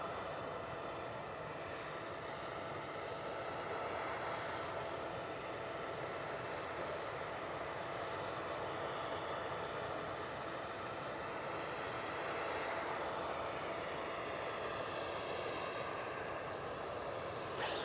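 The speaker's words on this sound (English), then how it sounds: "Emirates on a taxi now." An Emirates airliner taxiing at Manchester Airport, a steady, broad engine roar and whine heard from a distance that holds evenly throughout.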